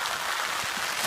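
Rain patters as a steady, even hiss for about a second, with soft faint thumps underneath and no voices.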